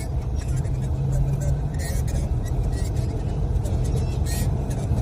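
A white Wagon R car passes on the road with a steady, moderately loud engine and tire rumble while people talk over it.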